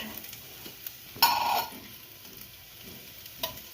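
Onion frying in a pan, with a brief louder sizzle and stirring burst near the start of the clip over a faint, steady background, then a few small clinks.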